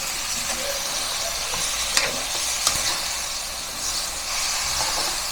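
Adobong sitaw sizzles in a pan, with hot oil hissing and steaming steadily while a utensil stirs it and occasionally knocks against the pan, close and without speech.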